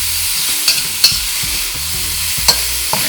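Honey soy chicken stir-fried in a hot pan gives a loud, continuous sizzle, with a few sharp spatula scrapes and knocks as the pieces are flipped and spread around.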